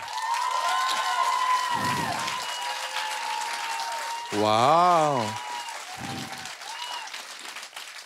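Audience clapping and cheering at a live talent show, loud sustained applause running under people talking, with one brief exclamation.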